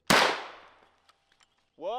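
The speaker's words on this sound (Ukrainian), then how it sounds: "Три постріли крихкими кулями." A single loud gunshot fires a frangible bullet close by. The sharp crack trails off in a fading echo over about a second, and then a voice begins speaking.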